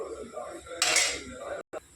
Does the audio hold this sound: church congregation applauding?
no